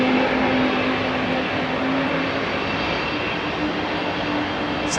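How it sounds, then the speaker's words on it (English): A Boeing 787 Dreamliner airliner passing at Heathrow Airport during a summer solstice show, a continuous, even jet engine rumble and hiss with a faint steady hum, close and unbroken for the whole stretch. "It's that Dreamliner."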